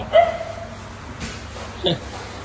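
A few short dog barks or yips, moderately close, with a quiet pause between them over a low background hum.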